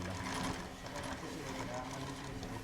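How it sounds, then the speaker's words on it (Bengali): A sewing machine runs continuously while stitching leather shoes, a dense steady mechanical whir filling the whole short stretch at a moderate level. "এখন এই মুহূর্তে আমরা মেশিনে সেলাই করতেছি"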